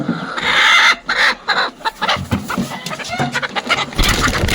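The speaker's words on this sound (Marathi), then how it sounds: "ही खुडूक कोंबडी दिसते का?" A broody hen clucks repeatedly in short, close bursts, with other fowl noises mixed in and a busy farmyard background.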